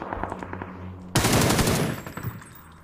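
A sudden burst of rapid automatic gunfire breaks in after a second of quieter synthetic tones, loud and close, then trails off into scattered shots.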